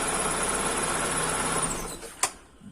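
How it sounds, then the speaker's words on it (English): A Proton Saga Iswara car engine runs with a steady, loud mechanical drone, then cuts out abruptly, leaving near silence with a faint click or two. "the engine shuts off"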